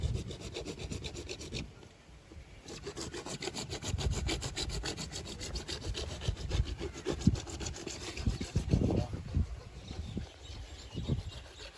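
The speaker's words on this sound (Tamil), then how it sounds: "நம்ம கேசிங் பைப் இப்போ வந்து கட் பண்ணிகிட்ருக்கோம்" Saw cutting through a borewell casing pipe, a steady rasping back-and-forth stroke that runs nearly continuously, close and fairly loud, with a brief pause early on.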